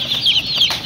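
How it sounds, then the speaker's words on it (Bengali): Poultry chicks at a market stall selling duck and chicken young give a brief burst of high, shrill peeping from several birds close at hand. "আমাদের এখানে সকল হাঁস ও মুরগির বাচ্চা পাওয়া যায়"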